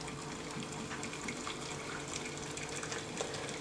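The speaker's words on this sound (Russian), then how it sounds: "сейчас мы будем заполнять наши баночки с овощами кипятком" Boiling water is poured steadily into jars of vegetables being pickled for winter, giving a continuous close splashing, gurgling stream without pauses or talking.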